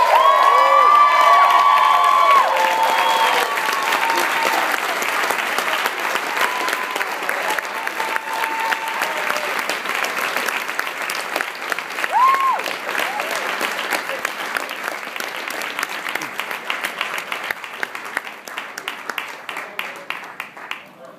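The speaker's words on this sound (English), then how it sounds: "Please give a huge round of applause to the man, Harold Eckler!" Big crowd applauds for Harold Eckler, steady loud clapping with cheers, whoops and a few shrill shouts, fading gradually over about twenty seconds.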